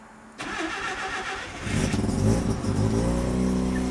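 A custom Toyota pickup engine fitted with individual throttle bodies cranks for a moment, catches and starts, then settles into a loud, rough running note close by.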